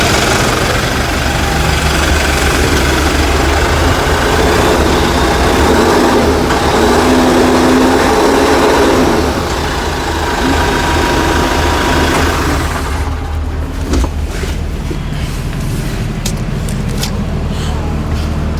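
A New Holland Workmaster 105 tractor's BS4 diesel engine runs with a steady, fairly quiet drone, joined near the end by some light clicking and rattling; no one speaks over it.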